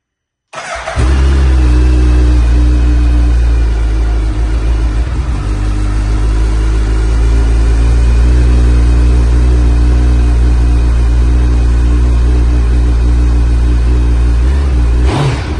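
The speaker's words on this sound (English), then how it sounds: "let's have a listen to how the stock exhaust sounds on this bike" A 2022 Suzuki Hayabusa motorcycle with its stock exhaust starts up and idles loudly and steadily, a deep continuous engine rumble close by, cutting off at the end.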